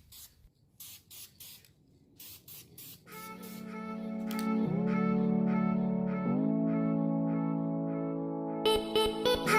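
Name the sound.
spray painting a brake caliper with primer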